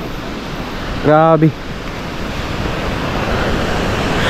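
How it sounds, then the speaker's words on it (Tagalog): Sea surf washing against the shore with wind across the microphone, a broad steady roar; a voice breaks in briefly. "at ngayon dito tayo sa tabi ng dagat ulit"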